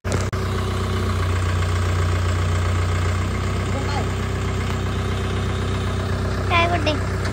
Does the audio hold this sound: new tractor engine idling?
yes